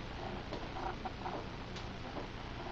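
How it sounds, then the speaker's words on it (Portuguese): A chicken gives a few faint, scattered clucks in a home kitchen setting, quiet against a steady background hiss. "Tá lá, galinha."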